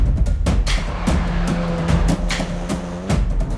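A Hyundai i20N hot hatch accelerating hard at speed, with a loud, close engine roar that climbs through the revs, broken by gear-change dips over heavy wind and road rumble.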